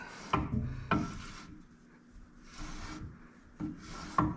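Rear differential gears fitted with a used Auburn posi unit in a 10-bolt 7.5-inch El Camino rear end, rotated by hand, giving soft rubbing, scraping strokes in several separate bursts, close and quiet.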